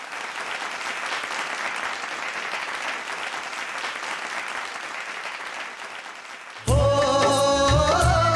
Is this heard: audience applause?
yes